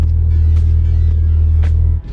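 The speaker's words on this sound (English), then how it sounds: "this is on cold start, remember, so we're sitting about 1300-ish RPM" Ford Fiesta ST with Mountune modifications idling on a cold start around 1300 RPM, a steady low engine drone held close and even for about two seconds before dipping slightly at the end.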